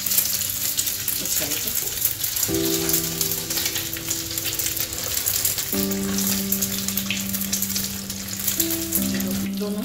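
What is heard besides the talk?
egg-dipped mutton cutlets frying in hot oil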